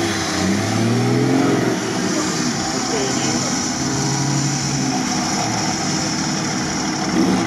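An off-road vehicle's M57 diesel engine revs and idles nearby in a continuous low drone, rising and falling slightly, with faint voices in the background.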